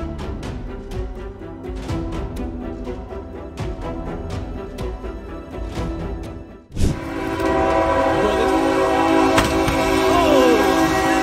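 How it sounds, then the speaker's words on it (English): Train horn blaring in repeated long blasts as a train approaches a car stranded on the tracks, then a sudden loud crash and a sustained grinding, scraping roar as the car is pushed along the rails. "With a deafening roar, the train ploughed into the helpless car"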